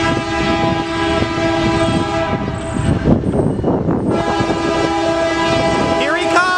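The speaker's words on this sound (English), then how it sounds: "We got a CSX train coming here at the Potter Street Railroad Crossing number 1 crossing here" A Canadian Pacific-powered intermodal freight train passes the Potter Street crossing in Fostoria, Ohio, its horn blaring in long sustained blasts over the loud rumble and clatter of the passing cars.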